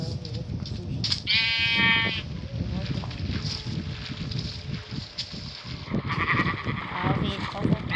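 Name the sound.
sheep bleating in the video game Minecraft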